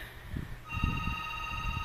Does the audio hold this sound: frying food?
no